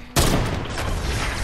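Gunfire in a shooter video game erupts suddenly after a brief lull, a loud, dense burst of shots that stays heavy and sustained to the end.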